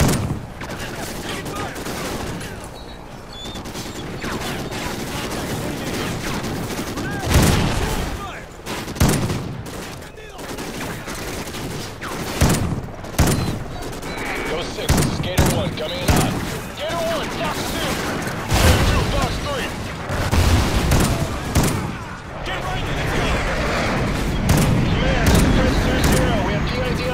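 Gunfire in Call of Duty Ghosts, loud bursts of rifle and machine-gun fire with sharp cracks and booming shots in irregular volleys, close and intense over a sustained firefight, with occasional shouted voices mixed in.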